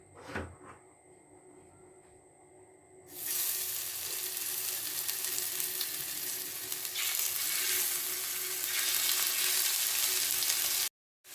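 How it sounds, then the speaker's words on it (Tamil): Marinated prawns hit hot oil in a pan for spicy prawn biryani. After a quiet moment with a faint clatter, a loud, steady hiss of frying erupts and keeps sizzling close up. "இதில் அந்த ஊற வச்சுருக்க எறாவை ஃப்ரை பண்ணி எடுத்துக்கலாம்."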